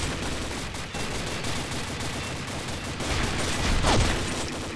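Super Shorty shotgun fire in Combat Arms, a run of heavy, roaring gunshot blasts over continuous battle noise, with a louder burst toward the end.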